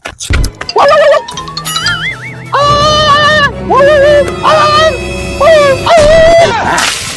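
A person imitates a dog with a series of whiny howls and yelps, rising and falling, loud and close, with short pauses between.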